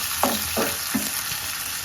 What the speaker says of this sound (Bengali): আর এই তো আমার মাছটা এটা কড়া করে ভাজবো